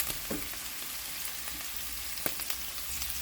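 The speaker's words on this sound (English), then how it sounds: "And more sauteing." Vegetables sautéing in a pan give an even, moderate sizzle with a few sharp utensil taps scattered through, and no voices.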